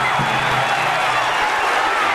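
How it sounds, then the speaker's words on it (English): Crowd applause at a boxing match, a steady broad wash of clapping and crowd noise filling the whole arena throughout, with a faint voice mixed in at the start. "A big round of applause."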